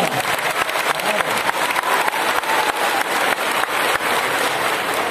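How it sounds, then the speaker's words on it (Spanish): Sustained applause from a crowd at a general community meeting in Santo Domingo de Morelos, dense and steady clapping that carries at an even, fairly loud level throughout. "Un aplauso para el gobierno de la República."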